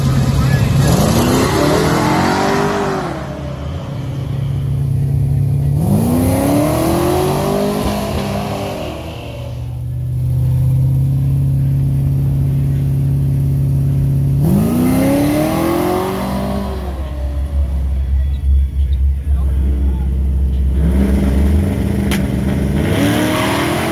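A modified truck runs down a drag strip at a drag event in Ferris, Texas, its engine roaring loud and close through two hard acceleration runs with rising revs and gear changes between them.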